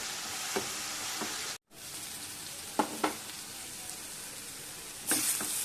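Cabbage fries in a pan with a steady, close sizzle, broken by a few soft stirring clicks and a brief dropout partway through; no one talks.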